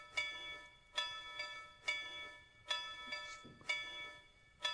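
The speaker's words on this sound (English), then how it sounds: "There's the bell." Locomotive bell in the train game Railroads Online, ringing in a steady rhythm of six clear metallic strikes about a second apart, each ringing on briefly before the next.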